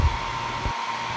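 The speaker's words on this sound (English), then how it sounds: "Use a hairdryer." A hair dryer blowing on a painted canvas, a steady close whooshing rush that holds throughout, dipping slightly near the end, with no voices.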